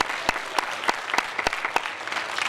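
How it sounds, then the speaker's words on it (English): Applause at a school awards night, a crowd clapping steadily with sharp individual claps standing out, close and lively, with no talking over it. "So a round of applause for all of you guys."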